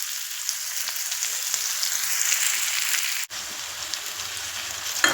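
Curry leaves hiss and sizzle in hot oil in a pan, a steady bright crackling fry with a brief dip partway through, close and continuous with no talk.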